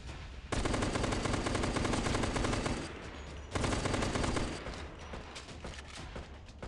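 Sustained bursts of automatic gunfire in the video game Last Day Alive during a player-versus-player match, two long loud volleys separated by a brief pause, then quieter scattered shots.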